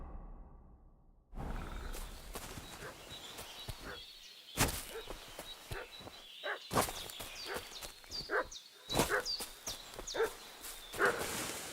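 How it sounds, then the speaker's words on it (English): A dog barks repeatedly in the medieval video game Kingdom Come, sharp loud barks in an irregular series after a quiet start, with faint footsteps and outdoor ambience between them. "What's that dog making such a fuss about?"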